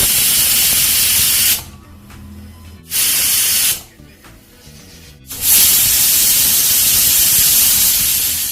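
Pressure cooker cooking fresh turmeric releases loud, steady bursts of steam hiss, broken by two short pauses before the hissing resumes strongly.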